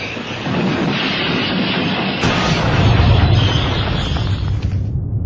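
A heavy train rumbles loudly with a broad roaring, hissing noise as it brakes hard, sustained for several seconds.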